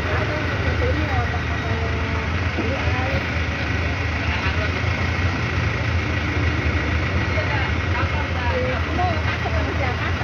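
A Bandros tour bus engine in Bandung runs at a steady idle, a constant low rumble with broadband road and cabin noise throughout, close and loud, with faint voices mixed in.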